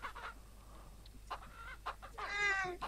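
Chickens clucking in the farming game Ranch Simulator, a run of short, close calls that build into a louder, drawn-out cackle near the end, with no talk over them.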